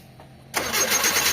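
A Mitsubishi Lancer engine with a fuel pump delivering no fuel cranks after a brief quiet, a loud close grinding churn of the starter that continues without catching.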